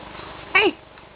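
A pet cat gives a single short, fairly loud meow indoors, rising out of a quiet room background with no talk over it.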